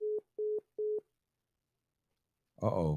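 Three short, evenly spaced telephone busy-signal beeps after a dropped call, followed by a pause and a brief spoken exclamation.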